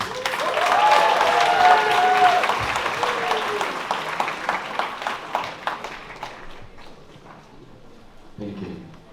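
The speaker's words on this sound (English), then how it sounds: "Please give a warm round of applause to Irvin's mom and dad." Wedding reception guests applaud warmly for the groom's parents, a dense burst of clapping that thins into scattered claps and fades, with voices murmuring underneath.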